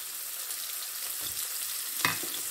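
Onions frying in hot olive oil in a pan, a soft steady sizzle with a couple of light utensil knocks, fairly quiet and without voices.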